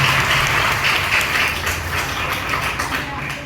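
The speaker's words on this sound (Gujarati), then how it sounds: "તે માટે તેમના માટે એકવાર તાળીઓ પડી જાય." An audience at a World Environment Day celebration breaks into steady applause, a dense, even wash of clapping hands that holds for several seconds before tapering slightly.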